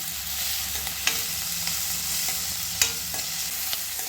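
Chopped tomato frying with softened onions in a pan for pineapple gojju, a soft continuous sizzle with occasional sharp spoon clinks against the pan, close by and without speech.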